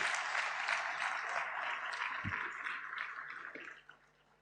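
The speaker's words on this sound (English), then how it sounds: "Once again, a great round of applause, please." An audience at an annual function claps steadily for an award-winning parliamentarian, a dense even patter that holds for several seconds, then thins and fades at the end.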